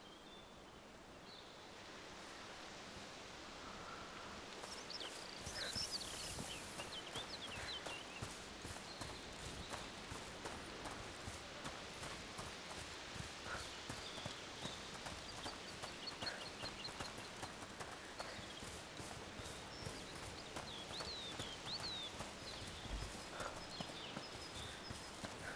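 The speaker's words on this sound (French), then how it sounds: "C'est ça les chevaux." Horses walk with steady clip-clop hooves in A Plague Tale: Requiem, a continuous rhythmic patter of hoofbeats running throughout at moderate loudness, faint at first and then filling the scene.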